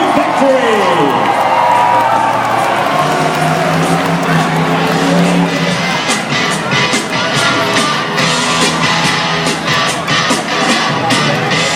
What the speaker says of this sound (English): Let's make some noise out there, ladies and gentlemen. Let's cheer these drivers on to victory.